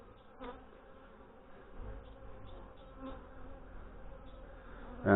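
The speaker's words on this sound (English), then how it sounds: "look at the bees on this frame." Honey bees from a colony that still wants to swarm crowd a brood frame and give off a steady, close, droning buzz, with a sharp knock at the very end.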